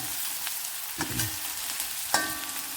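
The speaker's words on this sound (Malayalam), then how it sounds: "അപ്പം ഇതൊന്ന് വഴന്ന് വരട്ടെ ഒരു മിനിറ്റോളം ഞാനൊന്ന് വഴറ്റിയുള്ളൂ കേട്ടോ" Vegetables sautéing in coconut oil in a pan for a Kerala-style kovakka (ivy gourd) stir-fry, a steady soft sizzle with a few stirring scrapes and clinks close by, no talking.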